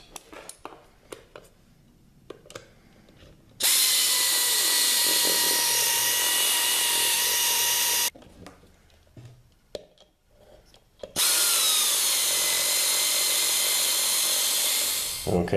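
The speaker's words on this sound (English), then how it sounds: "I'm going to put in the rest of these with a power tool. An air tool, to be exact." A pneumatic air tool fastening parts on an old mini bike, heard as two long, loud bursts of hissing air separated by quieter workshop clatter and handling noises.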